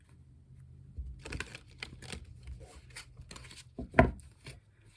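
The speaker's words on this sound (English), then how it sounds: "Let's do some shuffling first." A deck of cat-themed tarot cards being shuffled by hand, soft papery riffles and taps in short irregular bursts with one sharper knock near the end, close and quiet with no talking.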